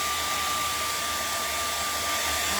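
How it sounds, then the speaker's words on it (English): A hair dryer blows steadily to dry acrylic paint on a winter snowman canvas painting, a constant loud whooshing drone with a thin whine, close and uninterrupted, with no talking. "This is why we love the hair dryer."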